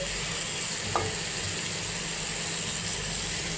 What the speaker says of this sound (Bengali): আমি পটল ভাজা বসিয়েছি